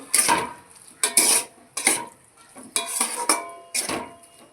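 Spice paste and potatoes are sautéed in a pan, heard as about seven loud, rhythmic scraping strokes with soft sizzling beneath and no talk.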